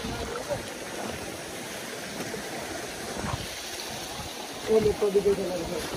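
A small village waterfall pours steadily with a broad, continuous rush of water, while people talk nearby over the flow.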